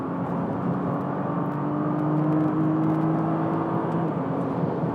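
A 2013 Nissan GT-R accelerates hard down the main straight at Spa-Francorchamps during a track day, heard from inside as a loud, steady engine roar whose pitch climbs gradually, with no talk.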